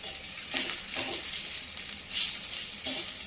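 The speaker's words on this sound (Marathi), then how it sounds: "अशा प्रकारे मीडियम आचेवर व्यवस्थित कांदा भाजून घ्यायचा." Chopped onion frying on medium heat in a pan, giving a steady soft sizzle with occasional stirring scrapes, close and moderately quiet, no voices.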